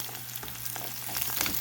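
Garlic, onion and curry leaves frying in hot coconut oil with popped mustard seeds, a steady close sizzle and crackle with a few stirring scrapes, rising slightly toward the end, no talk.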